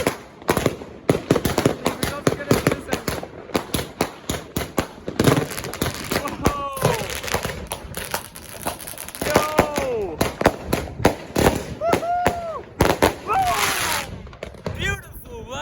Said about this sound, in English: Oh, and you get to see the other fireworks as well.